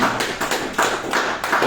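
A church congregation claps for the Lord in a steady run of sharp, fairly loud hand claps at a regular beat, with no voices over them.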